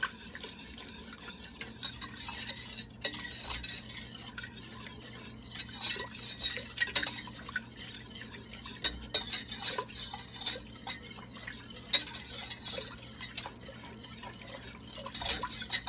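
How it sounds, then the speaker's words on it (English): Sausage gravy is whisked with milk in a pan over medium-high heat, a steady, busy run of close metallic whisk scrapes and taps over a faint simmer, with no one speaking. "you're going to have to continue to whisk this till it thickens"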